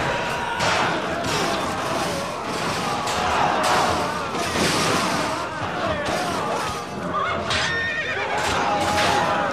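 Horses neigh and whinny repeatedly amid the clamor of a cavalry battle in the Bladestorm video game, loud and continuous with clashing impacts and crowd noise throughout.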